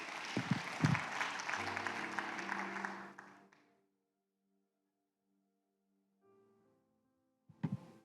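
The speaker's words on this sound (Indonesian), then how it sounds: "Yang mengerti tepuk tangan bagi Allah kita." A church congregation applauds during a sermon, a full burst of clapping that fades out after about three seconds into near silence, followed by faint lingering tones and a brief final clatter.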